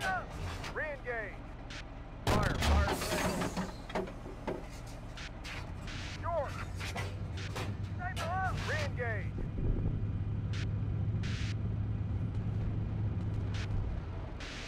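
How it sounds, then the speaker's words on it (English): Artillery fire and explosions boom in a military video game. One sharp blast hits early, and a low rumbling drone continues under scattered chirps and frequent voice chatter. "Artillery is coming in on somebody."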